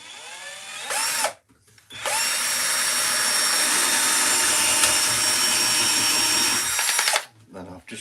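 A power drill drilling wood whines steadily for several seconds after a short burst and pause, then stops abruptly as the drill breaks; loud and close.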